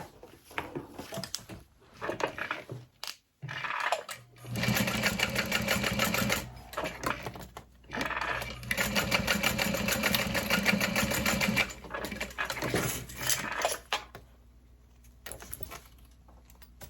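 Close bursts of a sewing machine top stitching the folded edge of a tote bag, running in several stretches with short pauses between and handling noises in the gaps.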